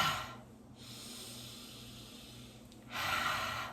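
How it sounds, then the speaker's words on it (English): A slow, breathy exhale during a relaxed stretching and shoulder-roll routine, soft and close, with an airy rush fading out and another breath rising near the end. "Exhaling."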